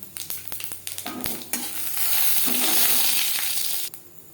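Dried red chilli and panch phoron hit hot oil for a mango chutney, starting with a few taps and scrapes in the pan and then swelling into a loud, steady sizzle that cuts off sharply near the end.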